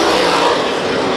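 Race cars battling side by side on the back straightaway at Santa Maria Speedway, a loud continuous engine roar heard alone for a brief moment.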